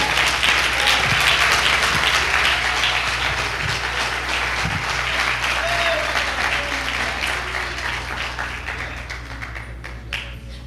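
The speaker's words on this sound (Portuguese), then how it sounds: "Você pode aplaudir o Senhor Jesus Cristo." A church congregation applauds during a sermon by Pastor Alex Cardoso, a loud, dense wash of clapping that holds steady for about ten seconds, with a low hum underneath, before easing slightly.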